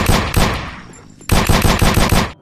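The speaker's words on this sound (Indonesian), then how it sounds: "di sini ada tembak-tembakan" Two loud bursts of rapid gunfire in the video game Jurassic World Evolution 2, with a short lull between them, the second burst a tight string of repeated shots that cuts off abruptly.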